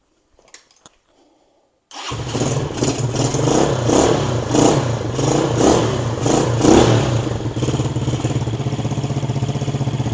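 After a couple of faint knocks, a Venom SS3 KP mini 150 mini bike engine with a freshly repacked muffler catches and revs in repeated surges, loud and close, its throaty exhaust note steady between blips.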